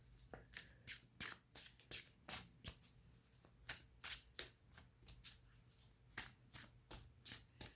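Tarot cards being shuffled and drawn, a quiet close series of repeated riffling flutters and soft slaps in a steady uneven rhythm, with no speech.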